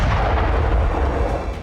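Artillery and Russian tank cannon fire during the war in Ukraine, a heavy, loud, rumbling boom that rolls on and fades over under two seconds.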